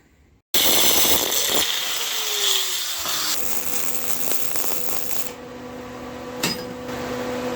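A power saw cuts through a metal ATV shifter lever, a loud, harsh grinding whine that starts abruptly and runs continuously for several seconds with shifting pitch and occasional sharp clicks.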